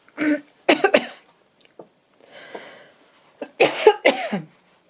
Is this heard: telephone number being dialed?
no